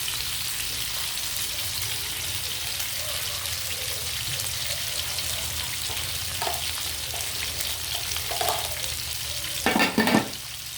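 Pochero ingredients frying in a pan give a steady soft sizzle with occasional stirring scrapes, and a louder clatter near the end.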